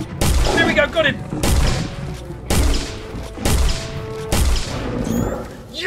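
Gunfire shooting at Bigfoot in the Finding Bigfoot video game lands as five loud, evenly spaced booming shots about a second apart, each trailing into rumbling noise, with an excited voice mixed in.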